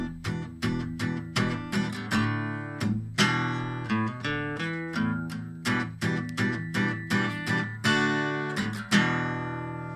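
An acoustic guitar strums the opening chords, with evenly spaced, ringing strums in a steady rhythm, close and clear with no voices.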